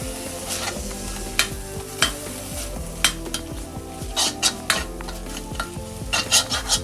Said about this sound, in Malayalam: മുട്ട ചേർത്ത് കൊടുക്കാം. നന്നായി ഒന്ന് ഇളക്കി കൊടുക്കാം.